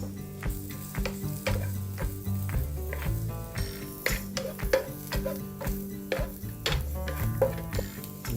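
Carrots stir-frying in sunflower oil in a hot pan, with a continuous sizzle and frequent scraping and clacking of a utensil against the pan, close and steady with no talking.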